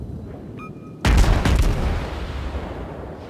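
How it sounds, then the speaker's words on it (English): High-explosive shells fire from warship guns in World of Warships, heard as one heavy booming blast that follows a brief interface tone and fades into a long rumbling decay. "HE is definitely the thing I need to be firing in this."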